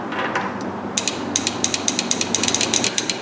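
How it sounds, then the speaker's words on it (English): Automotive relay clicking as it is energized, a rapid run of sharp mechanical ticks close to the mic over a faint background hiss. "So you hear the click of the relay."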